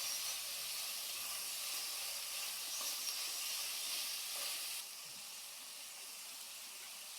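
Tomatoes sautéing with softened onions in a pan for mutton chukka give a steady, faint broadband hiss and sizzle, easing slightly quieter about two-thirds through, with no voices.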